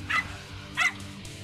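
Two sharp dog barks, about half a second apart, close by and fairly loud over a low background hum.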